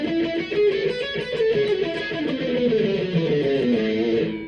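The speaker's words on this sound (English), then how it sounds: "And then alternate picking." Electric guitar alternate-picking exercise with a distorted tone: a fast, continuous run of evenly picked notes that moves up and down in pitch, close and loud for about four seconds with no speech.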